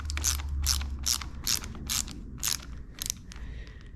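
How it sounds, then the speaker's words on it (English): A wrench working a bolt on the clutch lever of a Suzuki LTZ400 or Kawasaki KFX ATV, giving about seven evenly spaced ratcheting clicks, close and fairly quiet, with no talking. "We'll hold that down with a wrench,"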